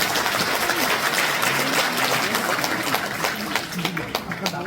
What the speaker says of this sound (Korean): 다 같이 박수로 맞아주시기 바랍니다.